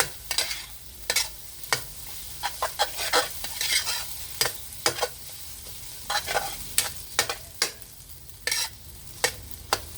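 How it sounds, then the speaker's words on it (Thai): Glass noodles with egg and napa cabbage being stir-fried: repeated sharp scraping and clanking strokes of a spatula in the pan over a continuous sizzle, irregular and close. "คลุกเคล้าให้เข้ากันค่ะ ผัดวุ้นเส้นใส่ไข่ผักกาดขาวค่ะ"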